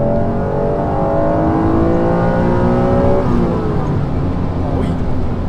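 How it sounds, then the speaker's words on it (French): A 1995 Honda NSX engine pulls hard under acceleration, its rising harmonic whine climbing steadily before easing off as a gear change comes, loud and close from inside the car with voices talking over it. "Ah oui, quand le VTEC il commence à rentrer en action à 6000."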